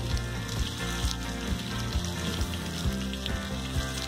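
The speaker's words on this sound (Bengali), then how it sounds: "এর মধ্যে আমি গাজরটাও দিয়ে দিচ্ছি, ভালো করে ভেজে নিতে হবে।" Carrots frying for mixed fried rice, a dense continuous sizzle with a low steady hum and soft periodic clicks of stirring, fairly loud and close, no talking.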